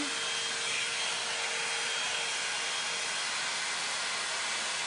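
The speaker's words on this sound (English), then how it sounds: "Is the blow dryer too loud?" Steady, loud broadband whoosh of a blow dryer running continuously close by while drying curly hair, with no other sounds over it.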